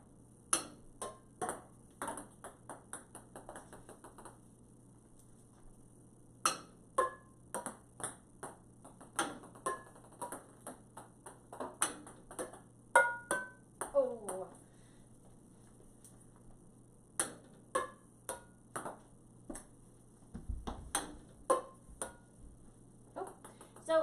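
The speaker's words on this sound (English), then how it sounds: "The balls bouncing on the hardwood or the tile can get kind of loud." Balls bounce on a hardwood or tile floor near pans at home, scattered sharp taps and pings in an irregular rhythm, fairly quiet and close, with short gaps between bursts of bounces.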